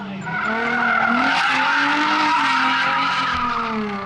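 A car drifting in real life, tires squealing in one long, loud, wavering screech over engine noise, close and sustained for several seconds.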